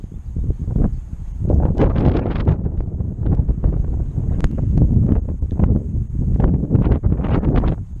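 Steady wind blows across the Annapolis River during a fishing trip, buffeting the microphone with a constant loud low roar that swells in gusts throughout.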